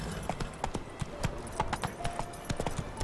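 Roach, a horse in The Witcher 3, clops along at a fast gallop, hoofbeats repeating in an uneven run over game music and ambience, fairly close and steady.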